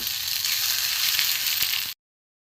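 Egg filling sautéing in a pan, a steady bright sizzle with a couple of faint spoon knocks, close and even before cutting off abruptly into silence.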